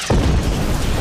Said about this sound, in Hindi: अब चलो, ग्रेनेड लॉन्च करो।